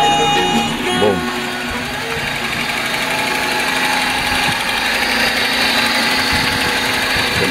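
A Honda Domani's D15B engine idles roughly and steadily, loud and close, with an uneven low rumble and a continuous hum for the whole stretch.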